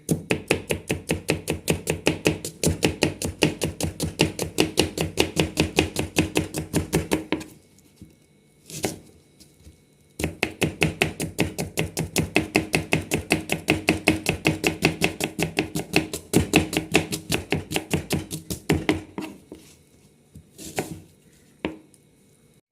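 Onions being chopped with a knife on a board, a fast steady run of crisp taps in long bursts with a short pause midway and a few slower strikes at the end, close and clear.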